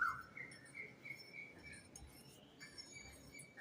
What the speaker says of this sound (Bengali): দূরে ভেসে আসছে, কোকিলের আওয়াজ